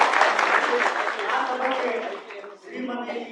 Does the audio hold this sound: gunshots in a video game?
no